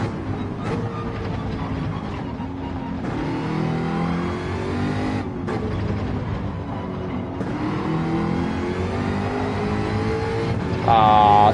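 A Gr3 race car engine roars steadily on the Grand Valley reverse track in Gran Turismo, close and loud, with revs rising and falling through gear changes and a sharp surge at the end.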